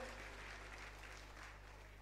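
Audience at a live Teja Sena gathering in Jaipur applauds to welcome a guest, a brief, faint patter of clapping over a low electrical hum.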